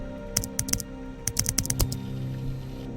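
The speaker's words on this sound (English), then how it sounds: "I'm typing it in." Computer keyboard typing, a quick run of sharp clicks in irregular bursts of several keystrokes, close and clear over a faint steady background hum.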